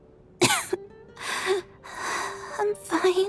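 Tonya coughs in the video game Genshin Impact. Several harsh, raspy coughs and throat-clearing bursts come close up, separated by short gasping pauses. A voice speaks briefly among them.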